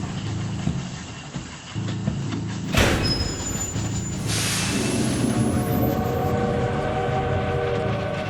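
Railway wagon being uncoupled as an audio drama effect: rumbling train noise with a sharp metallic clank and hiss midway, followed by a steady rolling drone with high squealing tones, no speech.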